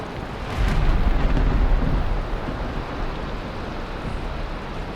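Stormy weather in the Valheim video game, a dense low rumble of thunder swelling early then settling into a steady roar of wind and rain, loud and continuous with no voices.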